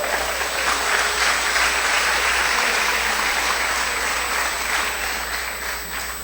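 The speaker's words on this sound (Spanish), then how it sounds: "Le damos un aplauso al Señor." Church congregation applauding, a sustained, even wash of many hands clapping at moderate volume from across the room.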